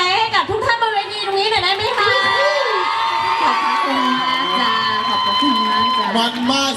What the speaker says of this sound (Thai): อยากจะขอเสียงปรบมือและเสียงกรี๊ดดังๆ